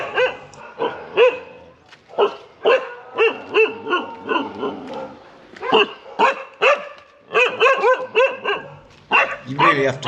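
Street dogs at a Thai temple bark in repeated loud, close bursts with a few yips and whimpers, clustered in quick volleys with brief pauses between.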